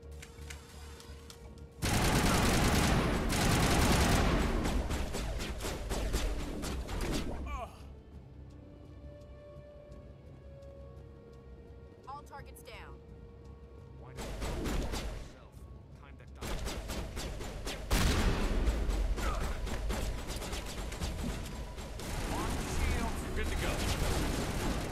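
Loud bursts of gunfire from a Mass Effect firefight, heavy volleys and shots broken by brief quieter gaps, with voices in the scene.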